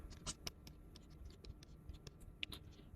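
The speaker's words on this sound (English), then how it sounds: "Let me just write this down." A pen scratches out a linear equation on a writing surface, quiet close strokes and small taps ticking along irregularly for a few seconds, with no voice.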